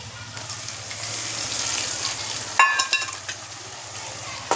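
Tomatoes just added to browned onions sizzle and fry in a pan, with steady crackling throughout and a few louder scraping stirs of a spoon near the end.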